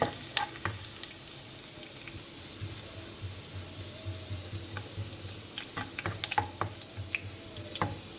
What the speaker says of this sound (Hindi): ऑयल हमारा गर्म हो चुका है, हम इसमें लहसुन चॉप किया हुआ लहसुन डाल देते हैं।